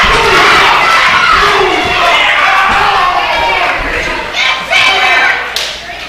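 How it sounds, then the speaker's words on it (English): A loud, dense wrestling crowd at an Anarchy Wrestling show roars and cheers throughout a tag team match, with shouts and occasional slams rising out of the sustained noise and commentators speaking over it. "This crowd getting behind Jacob Ashworth."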